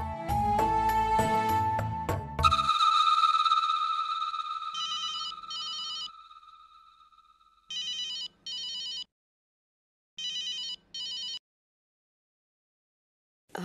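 A telephone call being placed in a Hindi TV drama: a few seconds of music, then a dial tone, then several ringback tones in regular paired bursts separated by silence.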